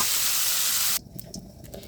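Green chillies hit hot oil in a home kitchen pan, giving a loud steady sizzling hiss that cuts off abruptly, leaving faint scattered crackles and spits.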